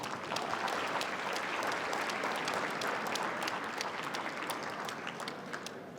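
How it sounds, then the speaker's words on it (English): An audience at a Lunar New Year program claps for an ambassador, with dense, sustained applause from many hands that holds steady and then eases toward the end. "Round of applause, please."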